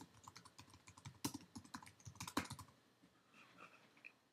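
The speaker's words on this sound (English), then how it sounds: "Just type whatever you want." Rapid, uneven clatter of keys on a computer keyboard, typed close by in bursts with a few sharper key strikes, then a quieter, sparser patch near the end; no voices.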